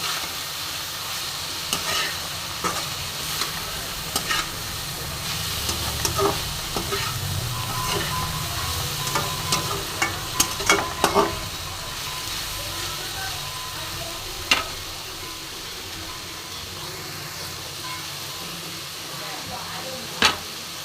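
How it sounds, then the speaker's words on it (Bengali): Spinach with grated coconut frying in a pan, a continuous hiss of sizzling under repeated scrapes and clicks of a spatula stirring it through, with faint speech now and then. "নারকেলটা দিয়ে দিলাম। নারকেল দিলে পরে খেতে একটু স্বাদটা একটু বেশি হয়। দিয়ে খুব সুন্দর করে ভাজবো।"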